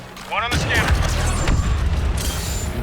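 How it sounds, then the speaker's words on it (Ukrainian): Explosions and blaster fire in the Star Wars Battlefront II multiplayer game, a burst of loud booms and crackling gunfire that fill the clip, with a player talking over the battle. "Вибухи слухай."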